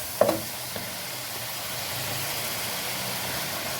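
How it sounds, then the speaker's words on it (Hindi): Meat and potatoes for aloo gosht fry in a pan with a steady, hissing sizzle, preceded by a couple of faint clinks near the start, alone and at moderate volume. "इसे मैंने अच्छे से भून लेना है"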